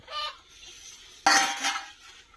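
Dishes being scrubbed and washed, heard as a soft rubbing swish followed by a sudden clatter of metal plates and utensils, close by and brief, with no talk.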